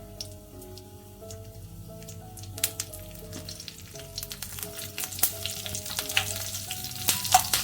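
Green chillies frying with ajwain and cumin in a pan, a soft, crackly sizzle with scattered pops and spatters that grows busier toward the end, with a low hum underneath.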